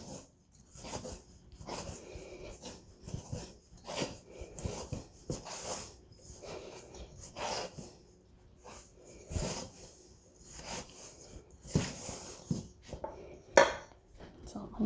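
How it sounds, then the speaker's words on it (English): A dough whisk or spoon scrapes and knocks around a bowl as flour is stirred into pizza dough, giving repeated soft, irregular strokes at close range with no talking. "Mix it with your dough whisk or your spoon until most of the flour, if not all, is incorporated in the dough."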